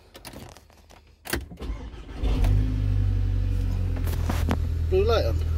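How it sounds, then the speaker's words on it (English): An Audi or VW car engine cranks briefly and catches, settling into a loud, steady idle rumble after a few clicks and key sounds, with a short high electronic chirp near the end. "But once I switch the engine on,"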